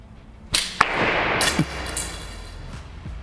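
An arrow loosed from a homemade bow built from a bicycle wheel rim whips away with a sharp swoosh, then strikes a wooden board with a crisp thwack, followed by a few lighter knocks, heard close and clear with no talking.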